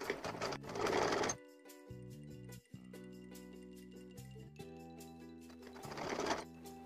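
A sewing machine attaches a sleeve to a suit, with two short, loud bursts of stitching at the start and end. Between them, quieter tonal sounds carry on in the background.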